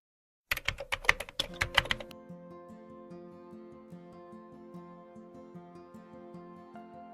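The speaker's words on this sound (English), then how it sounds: "So as I start typing employees, it offers up employees by employment type." Rapid typing on a computer keyboard, a quick burst of clicky keystrokes lasting under two seconds, followed by a soft, steady background of music.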